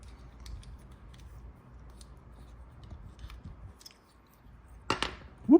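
Cookie Monster Blokees plastic building-block pieces being handled and snapped together, with faint ticks and rustles and then two sharp, close clicks near the end, no talking.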